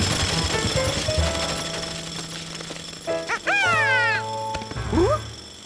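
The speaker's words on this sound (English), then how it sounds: "I'll turn off that jackhammer." Steady mechanical jackhammer pounding rattles on loudly throughout at a cartoon construction site, with whistling, chirping tones and a yelping, barking sound breaking in near the end.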